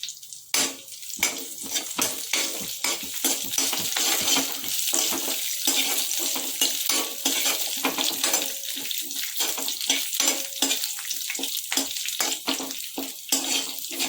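Curry leaves hit a pan of hot oil while cooking bitter gourd garlic karam, giving a loud, continuous sizzle and crackle broken by short gaps, with no talk over it.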